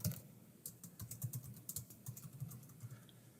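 Keys tapped on a computer keyboard while entering customer details into online software, a soft, steady run of quick clicks close by, quiet and with no voice.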